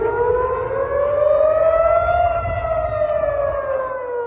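A steady, wailing air raid siren drones continuously in Tel Aviv, its pitch rising slightly then easing down, loud and sustained with no talking.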